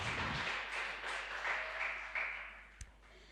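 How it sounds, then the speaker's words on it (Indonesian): A school audience at a literary book-discussion event applauds, a faint, steady patter of many hands clapping that slowly fades. "Tepuk tangan dong untuk materinya kita."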